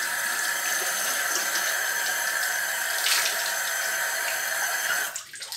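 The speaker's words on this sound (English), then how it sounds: "I'm gonna wet my face first." A tap runs into a sink while someone wets their face, giving a steady, close splashing gush that continues throughout and thins out into softer trickles and drips at the end.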